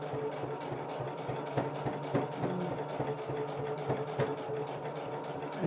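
A sewing machine runs steadily, stitching along a fabric seam of a camo pouch being upcycled, its motor whirring with a fast rhythmic needle chatter throughout, close and moderately loud with no talking.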